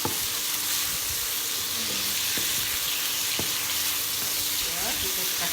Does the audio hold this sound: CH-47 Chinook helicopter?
no